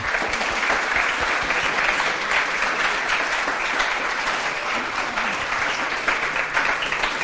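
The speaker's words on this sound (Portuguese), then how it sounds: "Vamos dar uma salva de palmas, acho que é necessário." A lecture audience gives sustained applause after the talk, a dense and even roar of clapping from many hands that continues without a break throughout.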